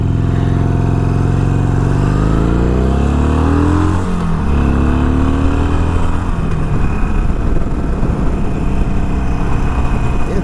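A Harley-Davidson Sportster 883 motorcycle rides in third gear, its loud, close engine rumbling steadily with a rising then settling pitch as it pulls through town, alone without talk.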